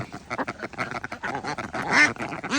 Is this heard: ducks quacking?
yes